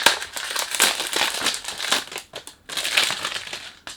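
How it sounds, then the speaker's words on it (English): Close, loud crinkling and crumpling of plastic packaging, irregular bursts of rustling with a short pause midway. "Sorry about the noise when you do unboxing."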